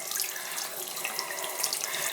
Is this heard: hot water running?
yes